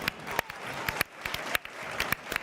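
A lone slow clap, sharp separate hand claps spaced about half a second apart, steady and close over a low background murmur.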